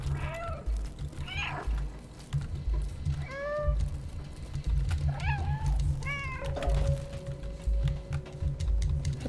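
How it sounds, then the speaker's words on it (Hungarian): Several cat meows from the video game Stray, spaced through the clip at moderate loudness over a steady low ambient drone, with a faint sustained tone near the end. "Valaki visszanyávog ott!"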